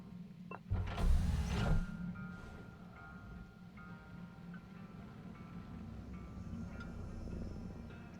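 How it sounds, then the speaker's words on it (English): In the video game Hardspace Shipbreaker, a spaceship door opens with a short, loud mechanical whoosh and grind. A low hum and faint ambient machinery continue afterward. "Let's open this door."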